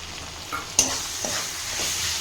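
Onion paste drops into hot prawn oil already seasoned with cardamom, cinnamon and a peppercorn. A sharp burst of sizzle follows, then a softer ongoing fry with a few stirring scrapes and no speech.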